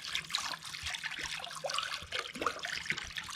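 Water poured and trickling over a rusted water pump to rinse off acid, a splashy, dribbling flow with irregular drips and gurgles, close and fairly quiet.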